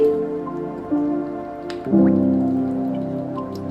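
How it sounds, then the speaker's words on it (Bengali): Oil going into a pan on the stove for cooking olives, with a quiet steady sizzle that turns louder and brighter in two steps as more oil lands, then holds as a continuous hiss with no voices. "এখন আমি চুলাতে চলে যাব তেল দিয়ে দিচ্ছি"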